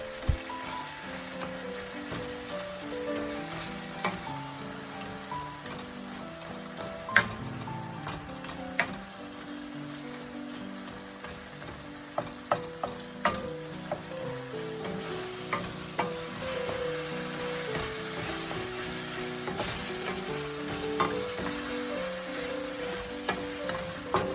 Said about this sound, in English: Mash the tomato pieces with the back of the spoon and mix it nicely